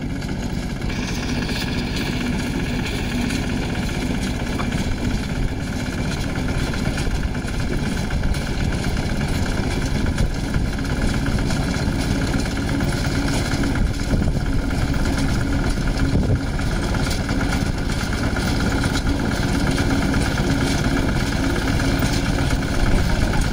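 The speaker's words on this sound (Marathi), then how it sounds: "सोयाबीन कापणीसाठी एक नंबर असा हा बुलेट ट्रॅक्टर आहे." A bullet tractor used for soybean harvesting runs steadily, its engine droning loud and continuous without pause for the whole stretch.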